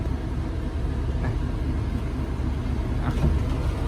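A truck pulls up at a work site to unload a vehicle, its engine a steady, close, low rumble that holds at an even level throughout with no voices.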